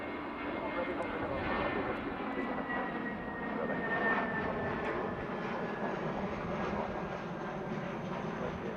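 A British Airways Airbus A319 jet takes off at Heathrow in the evening, its engines a steady, fairly distant broadband roar that holds throughout under faint radio chatter and talk.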